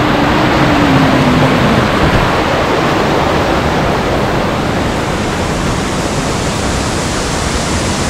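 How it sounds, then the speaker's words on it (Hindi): Steady, loud rushing water roar from waterfalls in Dharchula during the monsoon fills the whole stretch, a constant broadband wash of falling water with no voices. "चार वाटरफॉल आप देख सकते हो यहाँ पे"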